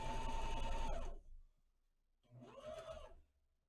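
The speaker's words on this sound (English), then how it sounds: "And then we're just going to go ahead and sew it." A sewing machine stitches a fabric fashion mask in a close, loud mechanical whir for about a second, pauses briefly, then runs again in a shorter burst that rises and falls.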